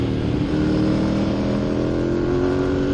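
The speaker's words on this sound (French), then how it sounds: "on va voir un petit peu quand ça roule" A Ducati Monster 1100 EVO motorcycle is ridden at steady pace, its engine droning continuously and close with a low, even rumble.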